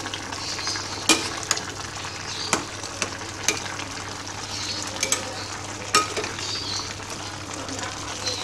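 Sponge gourd, sweet corn and glass noodles with saori sauce sizzle in a pan for a Minang stir-fry, a steady hiss broken by sharp clanks and scrapes of the spatula as it is stirred.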